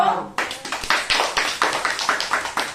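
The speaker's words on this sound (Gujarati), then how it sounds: "તાળી પાડો" A group of children at an Anganwadi clap together in a quick, fairly regular rhythm of about a dozen claps, loud and close, after a brief moment of talk.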